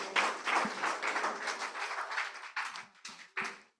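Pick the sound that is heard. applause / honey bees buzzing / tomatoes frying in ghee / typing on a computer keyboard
applause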